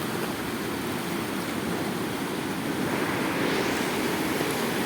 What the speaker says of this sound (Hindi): मैं दरिया के बिल्कुल करीब आ चुका हूँ